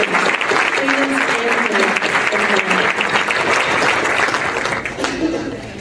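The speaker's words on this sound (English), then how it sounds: "Let's give them a round of applause." An audience at a school academic achievers ceremony applauds the top 10 graduates of the class of 2019, giving steady, dense clapping with a few faint voices and cheers mixed in.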